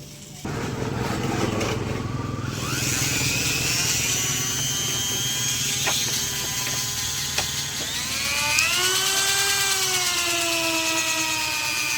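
Mini die grinder for porting: a loud, high-pitched whine runs steadily, dipping and rising in pitch as the tool loads and spins back up.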